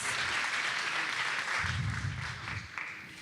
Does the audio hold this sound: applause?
yes